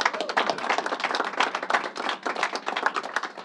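Applause from a press conference audience honoring the co-owners of the Islanders hockey team, a dense, steady wash of many hands clapping continuously and fairly close.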